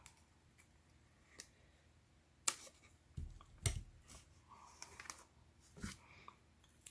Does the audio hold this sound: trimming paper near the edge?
yes